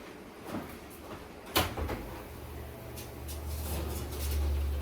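An oven broiler door is opened to take out miso-topped broiled eggplant: one sharp clunk near the middle, a few smaller knocks, then a low rumble of the oven fan or handling until the end.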